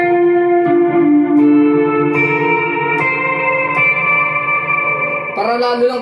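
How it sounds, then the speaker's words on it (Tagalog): Electric guitar run through a Mvave Tank G pedal with overdrive, reverb and delay, sustained chords ringing out with long echoing tails, loud and close, a few strums changing notes with no voice over it. "Lagyan natin ng reverb."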